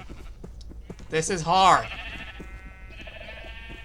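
A sheep bleats in the video game Zoe's Lab 2: one wavering, nasal bleat rises clearly around the middle, with a person talking softly before and after.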